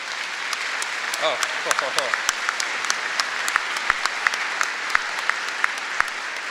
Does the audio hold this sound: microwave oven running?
no